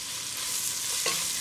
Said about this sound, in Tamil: நான் இப்போ கொஞ்சம் ஆஃப் சால்ட் மட்டும் இப்போ ஆட் பண்ணிக்க போகிறேன், ஸோ தட் ஆனியன் கொஞ்சம் ஃபாஸ்ட்டாக வதங்கிறதுக்காக.